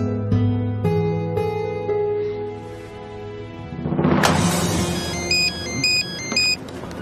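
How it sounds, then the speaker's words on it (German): A telephone rings in an office, its electronic ringtone sounding in clear repeated bursts over a musical background, loud and close. "Ihr Telefon."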